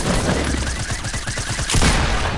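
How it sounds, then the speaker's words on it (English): Rapid sustained SMG fire in a shooter video game, a dense loud rattle of closely spaced shots running nearly unbroken through the whole stretch, with a brief heavier burst near the end. "Why do you always have to shoot with that SMG?"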